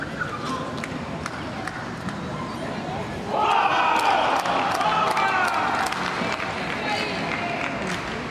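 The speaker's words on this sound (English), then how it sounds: "French crowd encouraging their athletes." French spectators at a Paris 2024 Paralympics boccia mixed pair quarter-final raise a loud, sustained cheer of encouragement partway through, swelling above the steady murmur of the arena crowd and holding for several seconds.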